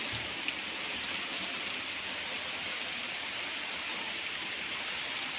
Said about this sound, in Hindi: जी देखो बारिश कितनी अच्छी हो रही है